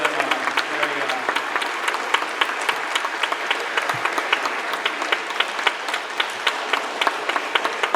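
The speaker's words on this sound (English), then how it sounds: "please stand, turn around, and applaud your families for all that they have done for you" Graduating students at the Forte Prep Academy 2022 ceremony applauding their families: dense, sustained crowd clapping filling the hall, steady in loudness throughout.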